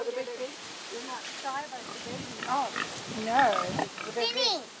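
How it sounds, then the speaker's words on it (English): Pigs on a local farm grunt and oink in short pitched bursts, growing louder toward the end, while a person talks nearby. "These are the happy pigs."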